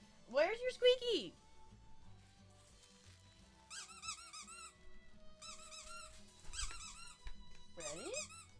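A dog's squeaky toy lets out a loud two-note squeak, then a burst of rapid, bright squeaks as the dog chews it, close and clear over a quiet room.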